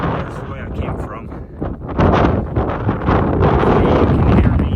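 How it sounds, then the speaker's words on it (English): Strong wind gusting across an exposed mountain top on the Appalachian Trail north of the Lehigh River, buffeting the microphone in loud rough roars that swell stronger halfway through. "It's very windy today."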